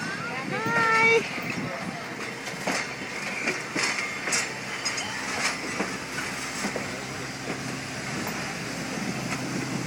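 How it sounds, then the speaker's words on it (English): A long train rolls past with a steady rumble and scattered metallic clicks for the whole stretch, while voices and a child chatter over it near the start. "That's a long train,"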